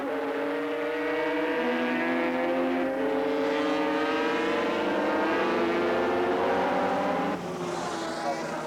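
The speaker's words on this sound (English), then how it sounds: "it's still Andrew Johnson pushing the Grand Prix Honda to its absolute limit" Grand Prix Honda racing motorcycles at full speed at Bathurst in 1983: a loud, sustained high-revving engine howl with layered harmonics, pitch stepping through gear changes as the bikes pass.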